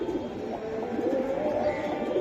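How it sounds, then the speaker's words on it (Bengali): Soft, steady murmur of Giribaz pigeons cooing together, low and continuous, with no pauses or talking. "কবুতরগুলো আজান দিচ্ছে"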